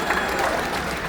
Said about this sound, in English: Give me a round of applause if you're a Platinum member.